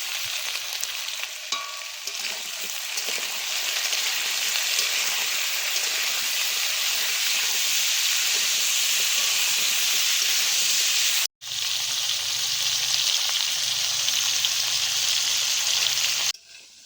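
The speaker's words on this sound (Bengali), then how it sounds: "এদিকে সবজিগুলো ভাজা হতে থাক" Mixed vegetables fry in a pan with salt and turmeric for a neem-flower shukto, giving off a steady, close sizzle and hiss that runs unbroken except for one brief cut.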